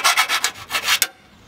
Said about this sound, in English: it's probably worth elongating them a little bit with a round file